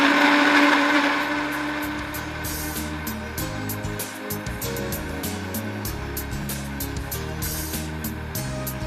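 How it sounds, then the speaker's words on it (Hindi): Electric blender whirring steadily as it purées tomato bharta, a loud continuous motor drone that eases slightly after the first second and runs on alone. "इसको हम ब्लेंड कर लेते हैं, जो टमाटर का भरता है।"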